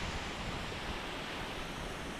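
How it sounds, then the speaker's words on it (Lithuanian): A waterfall near a small Norwegian mountain village, a steady, dense broadband rush of falling water that stays even and continuous, with no talk over it. "Krioklys."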